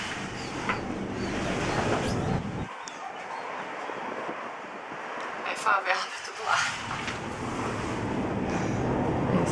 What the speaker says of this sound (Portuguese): Olha o vento que tá lá embaixo.